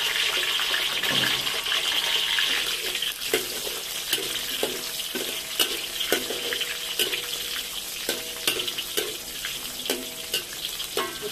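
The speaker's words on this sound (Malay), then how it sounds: "Goreng sampai bawang putih itu kecil." Garlic fries in hot oil for a homemade chili sambal, a steady sizzle broken by repeated sharp scrapes and taps of a utensil stirring in the pan.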